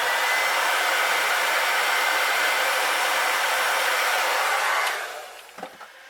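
A heat gun or hair dryer blows a steady, loud whooshing roar while heat-setting paint on a crankbait, then switches off near the end, leaving faint handling clicks.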